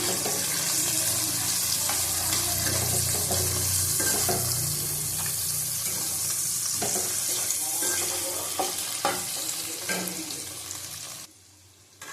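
Eggs frying in a pan for chow mein make a loud, close, steady hissing sizzle with occasional stirring scrapes, then it drops off abruptly near the end.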